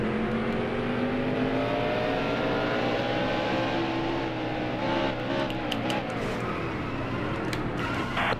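Race cars roar in the NASCAR Heat Evolution video game, a steady, dense engine drone with shifting pitch as the field runs at speed, loud and continuous throughout with brief higher hisses near the end.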